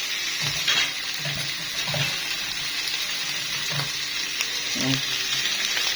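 Liver and kidneys fry in a pan Egyptian-style, a loud continuous sizzle close up with occasional soft knocks from stirring.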